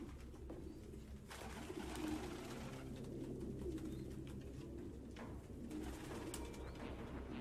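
Pigeons coo steadily in the Detroit: Become Human video game, a dense, continuous murmur of overlapping low calls from a flock filling the whole stretch with no voices.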